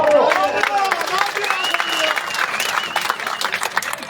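A crowd claps and cheers at an annual bull race fair in Mirpur, Azad Kashmir, a dense outdoor roar of applause that continues throughout, with a loudspeaker voice carrying over it.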